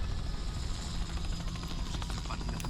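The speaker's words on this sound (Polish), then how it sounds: "Co to jest? Helikopter." Helicopter rotor and engine roar from The Last of Us game, a steady dense whir filling the whole stretch amid city ambience.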